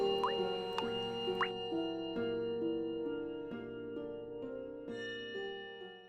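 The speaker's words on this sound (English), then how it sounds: "The water drops got louder." Water drips with a resonant, almost musical plink, falling one at a time at a slow uneven pace over a low sustained hum, growing slightly louder as they go, like an eerie audio-drama bathroom scene.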